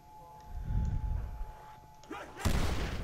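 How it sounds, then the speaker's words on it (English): A grenade explodes early in a Call of Duty custom zombies match: a sharp boom with a rumbling tail and a second burst after it. Game noise and a low voice sit underneath. "Damn, that grenade blew up really fast."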